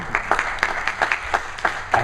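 Audience applause at a talk on escaping the rat race comes as a rhythmic run of sharp, separate claps, loud and close, with a short gap between each.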